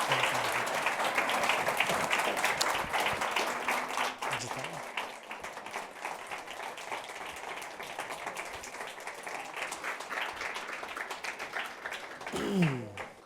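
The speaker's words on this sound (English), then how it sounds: "How about a round of applause for our panelists?" An audience at a Newsweek panel event applauds the panelists, with sustained clapping that is strongest at first and slowly thins out over about thirteen seconds, ending with a brief voice.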